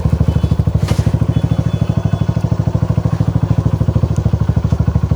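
Motorcycle engine chugging in a fast, steady, even rhythm at close range as the bike rides onto a narrow pipe bridge, with no talk over it.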